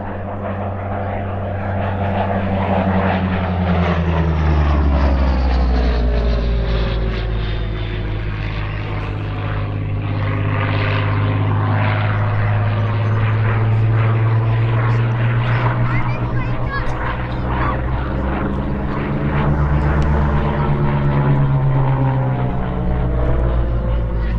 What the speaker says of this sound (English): In from the right, Jim Schofield in E602, the Spitfire Mk.V.